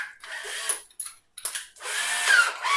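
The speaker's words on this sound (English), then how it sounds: "So I'm going to drill." A power drill with a 5.5mm bit bores a hole for a 6mm dowel in a wall clock frame, whining in short bursts with brief pauses, then a longer steady run, close and loud.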